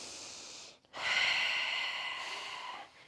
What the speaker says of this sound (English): I want to hear y'all breathing